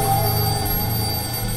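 A telephone rings in the Crime Secrets: Crimson Lily video game, a steady electronic ring held over a continuous tonal background for the whole stretch, with no voices.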